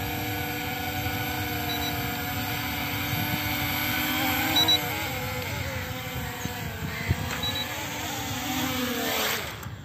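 An M3 Max camera drone flies steadily outdoors, its small propellers giving a continuous whining buzz with a broad rushing hiss that wavers in pitch as it moves, fairly close and alone without talk.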